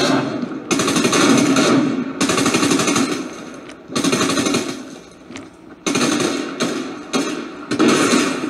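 Fortnite video game gunfire: several loud, close bursts of rapid automatic shots separated by short pauses, with a few single cracks, and no talking.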